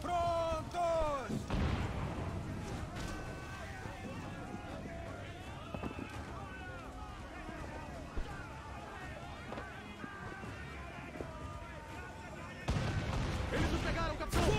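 Ship cannon broadsides in the pirate game Assassin's Creed IV: Black Flag, heavy booming blasts at the start and end over a dense battle din, with shouting voices throughout.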